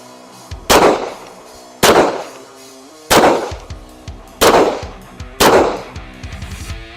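Springfield XD-M pistol fired during a moving shooting drill outdoors, five loud sharp shots spaced about a second or more apart, each with a short ringing echo, no talking.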